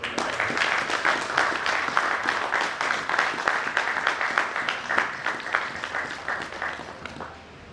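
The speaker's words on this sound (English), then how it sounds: "So a big round of applause." Audience at a concluding session giving a round of applause: dense, steady clapping from many hands that holds at an even level, then thins and fades away at the very end.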